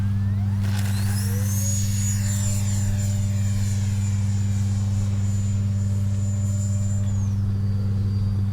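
A Freewing 64mm Banshee sport RC jet's electric ducted fan whines as the jet makes a touch and go, a sustained high-pitched whine that rises then falls away, over a steady low hum, with no talk.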